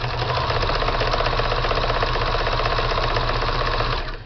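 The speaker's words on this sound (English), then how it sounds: "I'm going to sew back and forth a minute." A sewing machine stitches a boho bag in one continuous, loud, steady run of rapid mechanical whirring that stops abruptly at the end.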